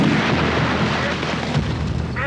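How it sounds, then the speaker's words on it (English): Heavy gunfire and booming blasts from the trailer for the 1993 action film Last Action Hero, loud and dense throughout under a thick mix of score and effects, with a sharper burst of impact near the end. "What the hell kind of gun is that?"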